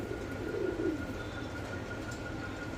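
Pigeons kept for sale coo in a single soft, low rolling phrase early on, over a constant droning background hum.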